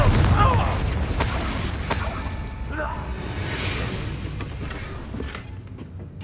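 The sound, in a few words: Confringo fire spell explosion in Hogwarts Legacy video game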